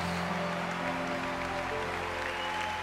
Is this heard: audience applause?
yes